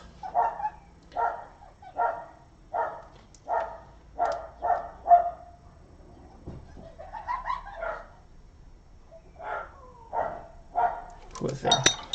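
A pet dog barks in repeated bursts nearby, about eight regular barks at a steady rhythm, then a pause with some yips and higher sounds before more barking resumes, set off by children outside.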